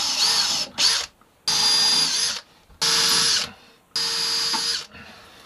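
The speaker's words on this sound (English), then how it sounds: "Okay, so drill some holes." A power drill bores holes in wood during a wooden boat refit, making four loud, high-pitched whining bursts, each about a second long, separated by short near-silent gaps.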